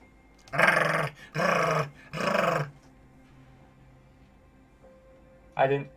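A person vocally imitating a dog, giving three loud drawn-out bark-like calls with a growly edge, then a short quieter pause and one more clipped bark at the end.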